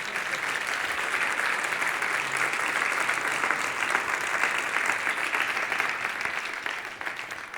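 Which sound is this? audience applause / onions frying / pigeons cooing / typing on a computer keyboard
audience applause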